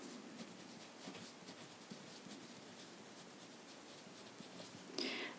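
A pen writing on a geometry worksheet, a faint continuous scratching with small stroke accents, close and alone, ending with a brief louder rustle.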